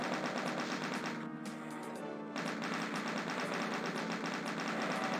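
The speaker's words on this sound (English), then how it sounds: "But now we can just kill the lost souls with the chain gun." Rapid, continuous chain gun fire in the Doom map Sunder, a loud rattling burst with a short pause, then the firing resumes and runs on steadily.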